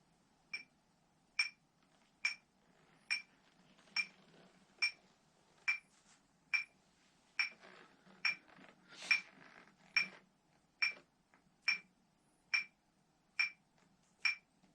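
A metronome ticks steadily at 70 beats per minute, each sharp click evenly spaced and fairly quiet, with faint background noise and no talking.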